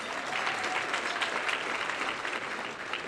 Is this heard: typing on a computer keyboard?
no